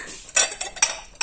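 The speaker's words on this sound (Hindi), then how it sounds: "निकालने पड़ेंगे सारे बर्तन" Metal utensils and dishes clatter as they are pulled out in a home kitchen, with several sharp, close clinks and rattles in quick succession.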